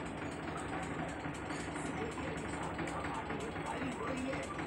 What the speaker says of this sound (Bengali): ওদিকটায় ফ্যানের এত আওয়াজ হচ্ছে,